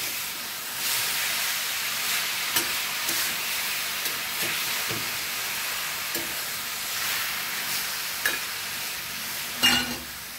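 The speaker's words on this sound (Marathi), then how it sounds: "कढईमध्ये खीस घातल्यानंतर हा खादूनवर असा छान हलवून घ्यायचा" Grated raw mango stirred in ghee in a wok over low heat gives a soft, continuous sizzle with repeated scraping strokes of a spoon against the pan, close and steady with an occasional louder clank near the end.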